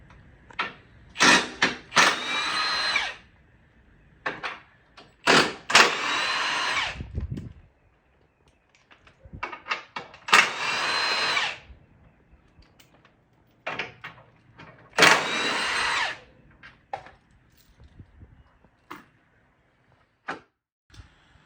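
Bursts of a power tool whir on and off while tow hook bolts come out of a Ford Bronco, several loud runs of two to three seconds each, separated by quieter gaps with small clanks.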